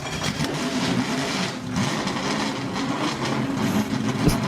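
A 1988 Lotus Esprit Turbo in the Driving Empire game starts up with a rough, clunky engine rumble, steady and fairly loud throughout with no one speaking.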